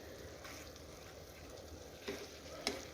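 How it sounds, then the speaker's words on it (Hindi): Boneless chicken sizzles softly in a karahi while being stirred, a low continuous fry broken by two sharper scrapes of the spoon toward the end. "अब हम इसमें चिकन ऐड कर देंगे इस पॉइंट पे, और चिकन को थोड़ी देर हिलाएंगे"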